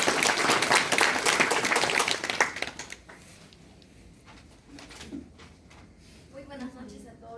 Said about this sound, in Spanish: Quisiera que le reciban un fuerte aplauso